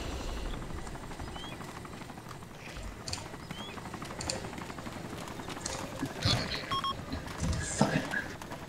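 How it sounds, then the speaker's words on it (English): A helicopter's rotor chops steadily in the background of the video game Arma 2, mixed with game sounds, clicks and brief voices. "Six o'clock enemy chopper, 200 meters."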